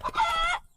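Newly hatched chicks, a day out of the shell, give a single short bright peep-like call lasting under a second, close and clear with no talk over it.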